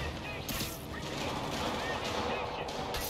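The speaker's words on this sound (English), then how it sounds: "They're shooting rocket launchers at us." Enemy rocket launcher fire in Marvel's Spider-Man Remastered, a dense run of loud booming blasts and crashing bursts layered continuously through the whole stretch, with game effects filling the mix.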